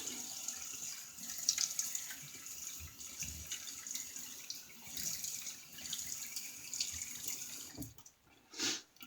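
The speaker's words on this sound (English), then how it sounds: "Let me get a rinse here." A safety razor is rinsed under a steadily running bathroom tap, water splashing continuously into the sink with a few louder gushes near the end. The sound is close and no one speaks.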